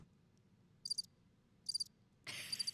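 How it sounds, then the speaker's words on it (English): A crickets chirping sound effect plays, short trilling bursts repeating at intervals over a quiet hum, ending in a louder burst of chirps. "I got crickets, but I don't have a boo button"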